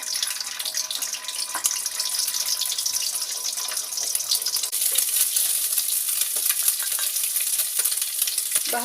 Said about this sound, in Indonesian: Telur 1 biji digoreng.